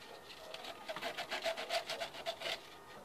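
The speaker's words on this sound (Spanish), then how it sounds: "Y damos una pequeña lijada alrededor del tubo." Sandpaper rubbing around the outside of a 2-inch PVC drain pipe during installation, a quick series of close, rhythmic rasping strokes with no voices.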